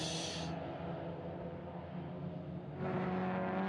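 Caterham Super Seven race cars at the start of a race on a circuit, a steady blended engine drone from several cars that swells louder near the end as they pass close by.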